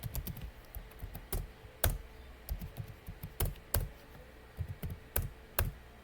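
A computer keyboard being typed on, with irregular, close, crisp key taps and a few heavier strikes such as the Enter key, with no one talking.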